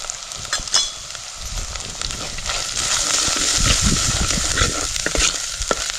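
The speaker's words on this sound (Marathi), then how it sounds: "आता हे आपला मसाला फोडणी चांगली परतून झाली" Spices, including coriander powder and red chilli powder, sizzle and crackle steadily in a hot pan for tempering, with scraping stirring sounds coming and going over the frying.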